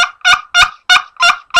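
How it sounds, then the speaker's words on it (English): A wooden turkey nail call gives a loud, close run of about six sharp clucks at a quick, even rhythm, each a short bright burst followed by a brief silence. "I think the maples have the best clucks on them."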